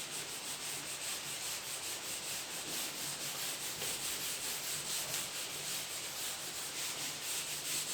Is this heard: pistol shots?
no